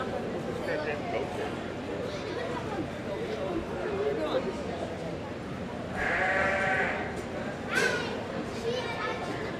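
Goats bleat amid a busy meat goat show crowd, with a loud bleating call around the middle and another sharp cry near the end over constant background chatter and children's voices.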